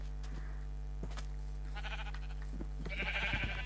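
Sheep bleat in Minecraft, a few short game-sound calls in a row, moderately loud over a steady low hum with no talking.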